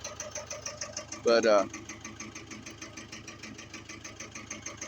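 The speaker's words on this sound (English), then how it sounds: "This is a factory WainRoy backhoe." A vintage factory WainRoy backhoe engine idles with a steady, even chugging pulse at moderate distance, briefly interrupted by a short spoken word.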